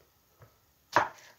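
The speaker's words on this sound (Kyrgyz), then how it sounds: "баклажанды дагы бир аз чоңураак көлөмдө туурай беребиз" A knife cuts eggplant into fairly large pieces on a board, a faint tap followed by one sharp, close chop, otherwise quiet.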